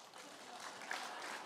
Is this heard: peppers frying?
no